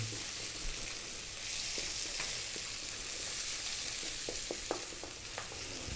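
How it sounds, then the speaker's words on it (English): Chopped onion frying over high heat in hot oil, a continuous sizzle with scattered clicks and scrapes as it is stirred and kept moving, close and steady with no voices. "Then we can add our onion. 3 minutes, high heat, keep it moving."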